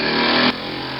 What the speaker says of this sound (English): It's a good little running engine,